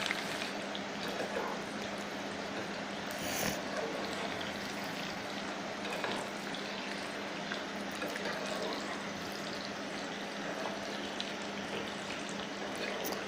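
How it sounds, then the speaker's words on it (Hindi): Chicken pieces for Chicken Manchurian deep-fry in hot oil with a steady, dense sizzle and bubbling, close and continuous throughout. "फ्राई हो चुका है हमारा चिकन"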